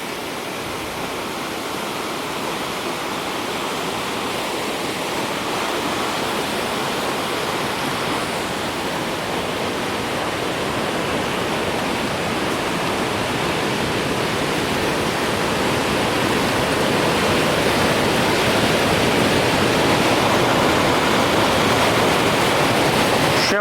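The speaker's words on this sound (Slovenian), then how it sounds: "Tukaj pa grmi Trebuščica dol." The flooded Trebuščica river roars downstream in a steady, dense rush of water that swells slightly louder over time, close and overwhelming, with no voices.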